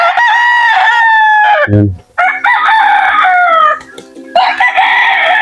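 Texas and native chickens crow loudly and close, with long repeated calls and clucking and a short low thump partway through; someone speaks briefly.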